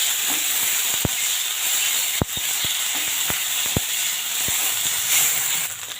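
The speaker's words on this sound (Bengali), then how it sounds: "তারপরে দিন হচ্ছে হলুদ গুঁড়া দিয়ে এটা ভালো করে কষে নিন মশলাটা।" Ginger paste and turmeric spice mix fry in a pan. A loud, steady hiss and sizzle is broken by sharp, scattered clicks and taps of a utensil against the pan. No one speaks.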